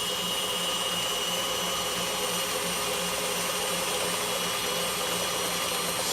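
A kitchen machine churns cream into butter with a continuous, loud, even motor whir that holds steady with no pauses throughout.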